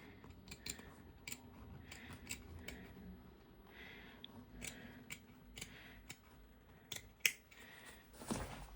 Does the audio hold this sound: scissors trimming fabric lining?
yes